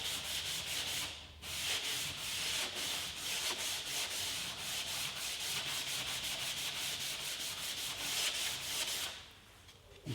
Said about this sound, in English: all I'm doing is that, I'm rubbing that down like that